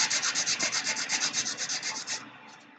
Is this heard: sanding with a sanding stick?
yes